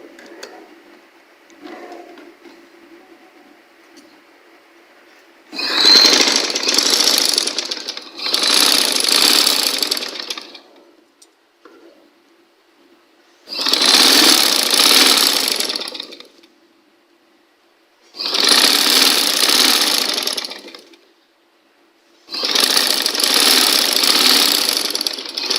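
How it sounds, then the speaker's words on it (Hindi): A sewing machine joins plain extra fabric onto a piece of a kids' tunic or frock. It comes in five loud, close bursts of fast mechanical whirring, each a few seconds long, with quiet pauses between them and no talk. "तो नाजरीन, हमने एक्स्ट्रा कपड़ा जो सिंपल लिया था उसको इस तरीके से एक हिस्से के साथ जॉइन कर लेंगे, यहाँ पर रखकर सिलाई की मदद से।"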